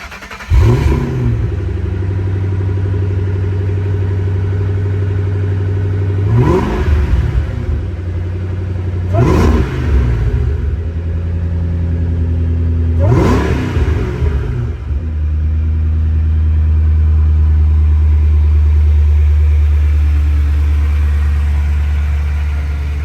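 A 725-horsepower 2008 Ford Shelby GT500 Super Snake idles with a deep rumble, punctuated by four sharp throttle blips spaced a few seconds apart, then settles into a steady, louder idle.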